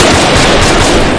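Gunfire during a WW2 reenactment, a dense, loud, continuous crackle of shots with no gaps between them and no voices.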